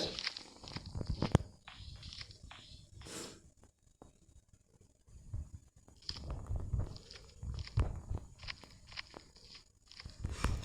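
Footsteps of Granny in the horror video game Granny thud in soft, irregular clusters, faint and fairly close, with quiet gaps and small creaks between them.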